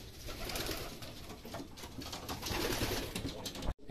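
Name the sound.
racing pigeons cooing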